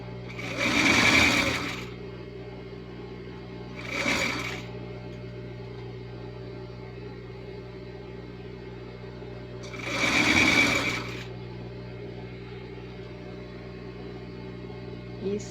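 A sewing machine stitches a double-folded hem on a strappy ruffled dress in three separate runs, two longer and one short, each a close, steady mechanical whir over a low background hum.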